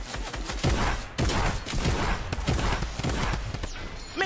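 Rapid bursts of gunfire from the Fortnite video game crack in quick, dense succession, loud and close throughout.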